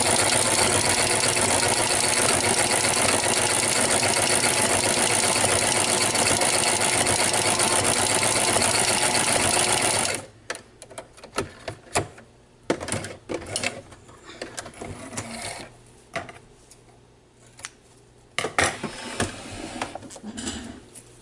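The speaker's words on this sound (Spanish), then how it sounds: "Bajamos nuestra aguja y nuestro prensatelas y empezamos a coser" Sewing machine fitted with a ruffler presser foot stitching fabric, a loud, steady rapid mechanical whir for about ten seconds, then scattered clicks, taps and handling noises.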